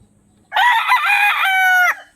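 A single rooster crow, loud and close, rising abruptly and holding for over a second before cutting off.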